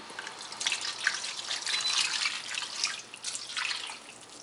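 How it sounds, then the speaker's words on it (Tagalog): Water poured into a pot of boiling food in a Kapampangan home kitchen, a steady hissing splash and trickle running continuously at moderate level with no voices. "lagyan muna natin sila ng tubig"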